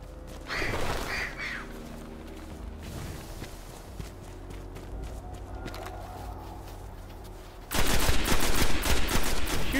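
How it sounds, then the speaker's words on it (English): Gunfire in the video game Destiny, with scattered shots under ambient game sounds that give way to a loud, dense burst of rapid fire near the end. "Shooting feels kind of weird to me in this game"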